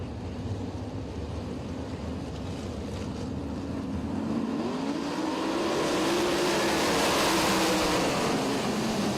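410 sprint cars racing at Lincoln Speedway during the Labor Day Duel: a distant engine roar whose pitch sweeps up and down, growing louder in the second half as the pack nears.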